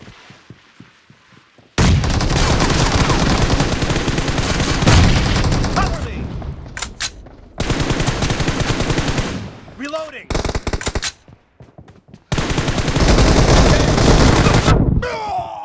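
Loud bursts of automatic gunfire in the battle royale game BGMI during an arena team match, long sustained volleys separated by short pauses, with some game effects between bursts.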